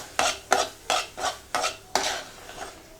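Chopped tomato stirred into crab roast masala in a pan, a spoon scraping in six distinct rhythmic strokes, each a sharp rasping swipe that fades quickly, close and fairly loud with no voices.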